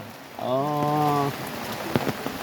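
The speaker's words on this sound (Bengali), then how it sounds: "বৃষ্টিটা তো মনে হয় লাগিয়ে থাকবে, তাই না?" Steady rain falls at an open-air rural market where garlic is being sold, a constant wash of patter with a few sharper drops, while a harmonic voice-like tone rises briefly above it.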